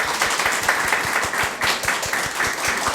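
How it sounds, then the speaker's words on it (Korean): A church congregation at a New Year thanksgiving service claps steadily to welcome a guest, a dense, even crackle of many hands close by. "우리 박수로 환영하시겠습니다."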